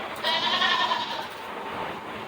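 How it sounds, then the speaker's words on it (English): An unhappy goat bleats once in a long, loud, wavering cry that fades out, heard near a roadside stop in Amarillo, Texas, with no talk. "That goat's not happy."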